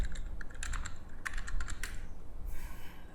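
Someone types a name on a computer keyboard in quick, close, crisp keystrokes that come in short bursts, with no voices over them.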